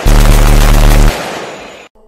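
A single loud, booming gunshot-like blast hits at once and holds heavy, sustained low rumble for about a second, then decays into a fading tail before cutting off, with no voices present.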